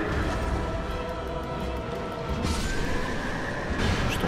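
A horse whinnies in Dark Souls 2, a steady, fairly loud neigh with a broad hissing texture, swelling again near the end with no talk over it.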